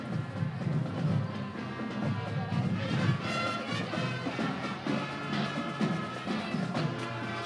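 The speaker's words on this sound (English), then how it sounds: "you can hear that Christmas music coming down the street right now" A high school marching band, Chaparral High School Sound and Emerald Guard, playing Christmas music in an electric light parade, brass and drums carrying steadily down the street at moderate distance with crowd noise around.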